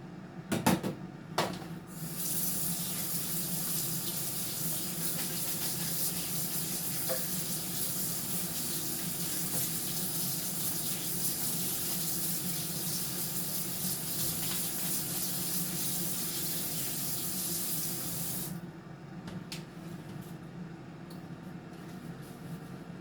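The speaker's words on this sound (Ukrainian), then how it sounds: "І зараз я їх помию, щоб вони стікали" Tap water runs steadily into a sink while shrimp are washed under it, a close and continuous rushing flow lasting most of the stretch. A few clinks come at the start, and the water is cut off near the end.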